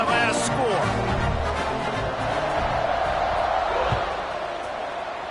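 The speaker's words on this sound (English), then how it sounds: "this crowd is buzzing after that last score" A football stadium crowd in a Minnesota versus Pittsburgh game keeps up a broad, steady buzzing roar after a score, with a voice talking over the noise.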